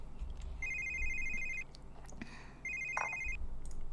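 A telephone in The Sims 3 rings twice in a steady electronic trill, each ring about a second long and separated by a brief pause, sounding clear over a low, even background hum.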